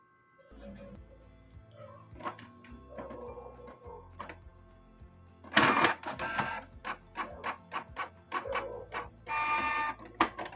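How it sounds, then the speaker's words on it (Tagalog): A Canon printer runs a print job after a P07 error fix, with rhythmic mechanical clicks, whirring feed motor passes and bursts of paper movement, fairly close and moderately loud, with no talking. "try natin i-print to guys."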